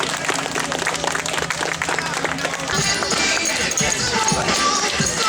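A crowd at an outdoor strongman sports festival breaks into applause and clapping, a dense wash of claps following rhythmic thumps, with a voice talking over it.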